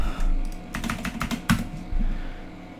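Rapid bursts of keystrokes on a computer keyboard, close and fairly quiet, clicking in quick irregular runs while entering text into a game search box, with no talk.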